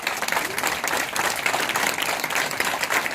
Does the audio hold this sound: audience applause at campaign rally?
yes